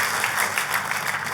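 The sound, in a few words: applause in church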